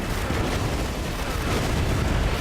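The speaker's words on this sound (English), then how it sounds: "That is a lot of gunfire." Gunfire and explosions in the video game Battalion Wars 2, a dense, continuous roar of battle noise that stays loud and unbroken throughout.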